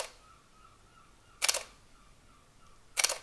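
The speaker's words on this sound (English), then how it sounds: "And now for the fully mechanical shutter, which is a little louder but far from obtrusive." Two crisp mechanical shutter actuations from a Canon EOS R6 mirrorless camera, fired one at a time about a second and a half apart, each a short sharp clack heard up close over a quiet room.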